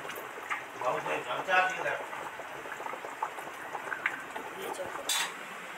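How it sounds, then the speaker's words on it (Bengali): Vegetable curry with mustard paste bubbling and simmering in a pot, a wet irregular blip-and-pop texture, fairly faint, with a brief clatter near the end. "এই যে টকবক করে তরকারিটা ফুটছে"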